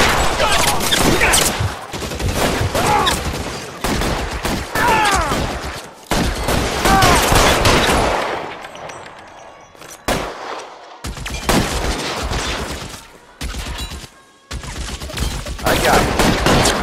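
Covering gunfire in the video game L.A. Noire: heavy, repeated fusillades of loud close shots in long bursts separated by brief silent gaps.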